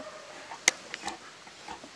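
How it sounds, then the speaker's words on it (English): A coonhound on a night coon hunt gives a single short bark at a distance, faint against a quiet outdoor background, with a few softer yips trailing after. "That dog's got a unique voice, ain't he?"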